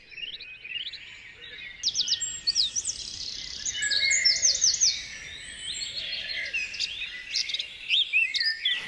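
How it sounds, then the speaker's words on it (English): Many birds sing and chirp together in a busy outdoor chorus, overlapping trills and tweets at varied distances, with no talking. "This is called the dawn chorus."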